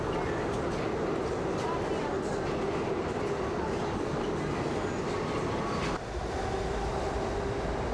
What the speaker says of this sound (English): we are at the 86th Street subway station